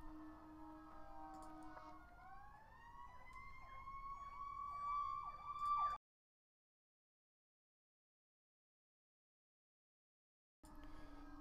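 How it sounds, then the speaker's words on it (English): Wailing emergency vehicle sirens from a nearby fire station in Holon, several rising and warbling tones overlapping loudly for about six seconds, then cutting to silence before resuming briefly. "You hear a bunch of sirens."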